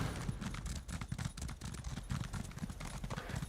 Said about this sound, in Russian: Думаю, на лошади ехать.